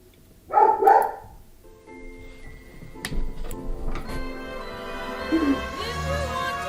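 A dog gives a couple of close, loud barks near the start, followed by quieter indoor background sounds with a steady ticking.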